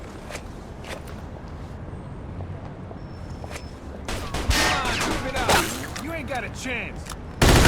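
Automatic weapon fire in the video game Mafia 2 opens up partway through as loud, dense, rattling bursts over a steady background, with a voice speaking briefly.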